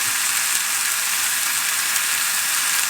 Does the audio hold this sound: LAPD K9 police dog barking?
no